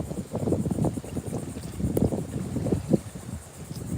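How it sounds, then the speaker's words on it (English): Wind at a riverside dock along snook fishing water, gusty low rumbling buffeting across the microphone with faint rustle, steady and close. "It's a little bit on the windy side right now"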